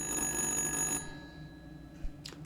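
An old telephone that is not plugged in rings in a horror-movie setting, a steady electronic-sounding ring filling the first second, then cutting off, leaving quiet room tone and a small knock.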